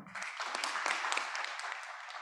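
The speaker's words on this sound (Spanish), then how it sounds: "Agradecemos con este fuerte aplauso también a todas y todos los asistentes presentes" Applause from a conference audience after an opening keynote lecture: a short, continuous wash of many hands clapping, fairly even and distant-sounding, with faint voices mixed in.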